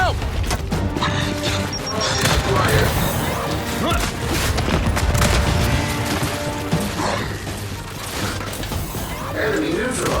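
A frag grenade explosion and gunfire in Gears 5 sound through a thick, continuous wall of crashing combat noise, with clanking mechanical rattles and heavy thuds and faint shouting under the din.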